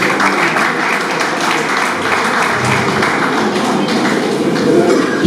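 Dense applause fills a fiftieth birthday celebration, many hands clapping continuously at close range with crowd murmur mixed in.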